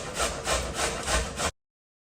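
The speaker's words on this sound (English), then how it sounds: "I'm done grating our zucchini." Summer zucchini rubbed against a box grater in rhythmic, loud scraping strokes, about five even back-and-forth passes, then abrupt silence.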